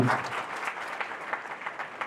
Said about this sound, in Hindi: एक बार फिर पुनः तालियां